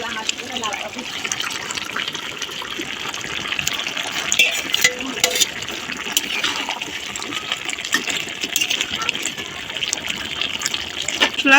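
Snakehead fish goes into a gourd curry frying in a pan, giving a steady sizzling hiss with watery bubbling and occasional stirring scrapes throughout.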